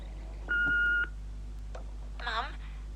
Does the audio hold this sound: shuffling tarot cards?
no